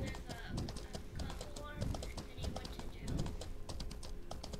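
Rhythmic clip-clop of horse hooves at a steady trot in the video game Mortal Online 2, moderately loud, with people talking over the top.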